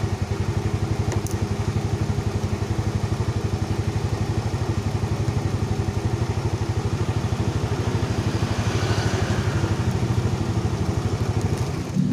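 A Yamaha Mio Sporty scooter that stalls often and starts poorly idles on battery power, its engine putting out a steady, rapid putter with light clatter at close range for the whole stretch.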